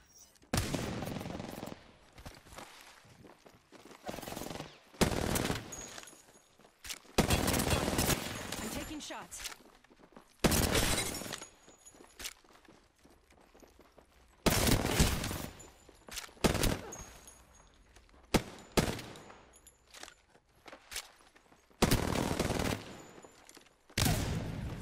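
Gunfire in a 1v1 video game tournament, with repeated bursts of rapid shots separated by short quiet gaps, loud and sharp across the whole stretch.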